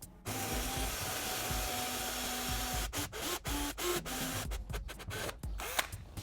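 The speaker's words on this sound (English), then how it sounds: "proceed to drill on the axis" Hand drill boring a hole for a frame slider in the frame of a 2013 or later Honda CBR600RR, a steady whirring grind near the mic that breaks into short stop-start bursts in the second half.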